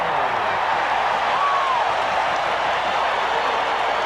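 A large crowd roars steadily at a 1988 World Series baseball game, a loud sustained wall of cheering with a faint whistle rising briefly in the middle.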